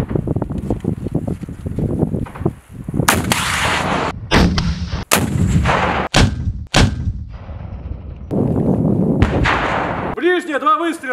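Sharp military rifle shots crack out one after another during weapons training, some in quick pairs, loud and close, with wind buffeting the microphone between them.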